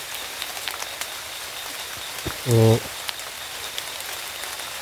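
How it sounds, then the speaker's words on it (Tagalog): Heavy rain falls in a steady wide hiss, with one short spoken word near the middle. "palakas ng ulan."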